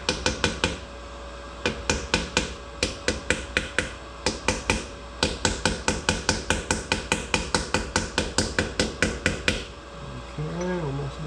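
A hammer drives a new seal into a differential during a 5.38 gear and Duragrip limited-slip install, tapping metal in a long, steady run of sharp, fairly loud strikes that speed into an even rhythm, followed by voices talking at the end.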